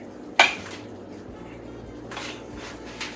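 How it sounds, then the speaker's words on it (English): A spoon clinks sharply once against a pan or dish as oven-cooked rice is scooped into stuffed peppers, followed by softer scraping and light clatter in a quiet kitchen. "we're going to add a couple of spoons of rice in there"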